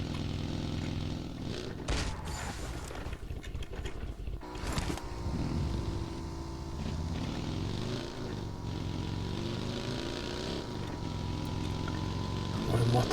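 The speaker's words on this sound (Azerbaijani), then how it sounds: "Motosiklet çox sürətlidir." A motorcycle engine in a video game drones steadily throughout, a continuous mid-level hum with a few louder bursts of game noise near the start.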